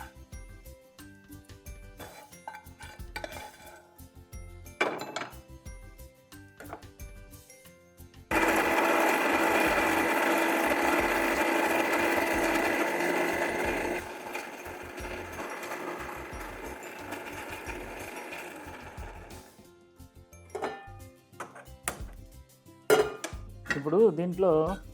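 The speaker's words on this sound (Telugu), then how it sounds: "చిన్న మిక్సీ జార్లోకి" A small mixer grinder jar grinds cooled idli batter ingredients in one loud, continuous whirring burst of about twelve seconds, then runs more quietly. Scattered clinks and handling knocks of the jar come before and after.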